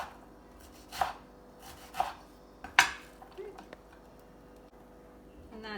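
A knife chops an onion on a cutting board for minestrone soup, with three distinct crisp cuts about a second apart, then softer scraping and handling, close and clear in a quiet kitchen.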